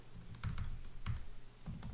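Quiet, close computer keyboard typing: a few soft, irregular key taps in quick succession over a faint background hum.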